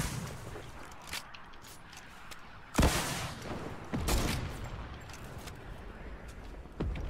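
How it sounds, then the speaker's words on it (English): A rocket launched in a multiplayer shooter game, heard as a loud, sharp blast about a third of the way in, followed by another burst and several smaller impacts and shots scattered across a busy, noisy battle background. "I'm gonna shoot a rocket at it."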